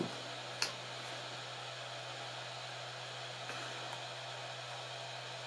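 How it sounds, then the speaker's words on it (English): Steady hiss of blowing air with a low hum underneath, a hot air gun cooling down during a sound card screen replacement, faint and continuous with a couple of small clicks. "if you can hear a noise, that's the air gun cooling down"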